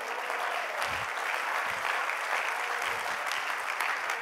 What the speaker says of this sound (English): Would someone just clap hands to the Lord?